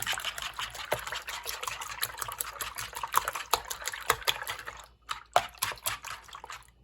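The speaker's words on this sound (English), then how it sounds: "So all you have to do is give them a whisk up." Eggs get whisked in a frying pan with quick, irregular wet clicks and taps of the utensil on the pan. The strokes are close and fairly faint, and there is a brief pause near the end.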